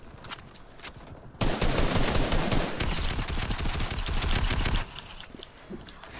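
Sustained rapid automatic fire from a tactical assault rifle and SMG in Fortnite, a dense loud burst lasting about three seconds, with scattered single shots before and after.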